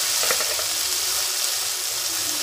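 A paste frying in a pan with turmeric being added, giving a steady, loud, close-up sizzle with a few scraping stirs near the start and no talking.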